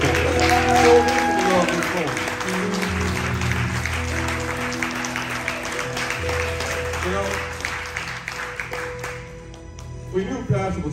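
Church congregation standing to applaud fathers, a broad wash of clapping under music and speech, continuing steadily before thinning out near the end.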